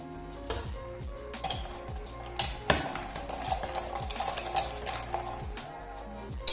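Ice cubes clink and rattle against a glass as Sprite is stirred in, a busy run of close, bright knocks and chinks with one sharper clatter midway.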